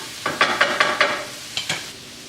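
Ground beef with oregano being stirred in a hot pan, a spoon scraping in a steady run of five close strokes, then two more after a short pause, over a constant sizzle.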